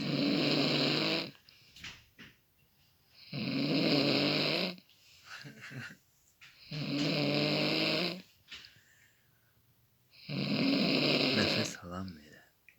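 A man snores loudly in four long, rasping breaths spaced about three seconds apart, each a heavy drawn-out rumble followed by quieter gaps, close to the listener.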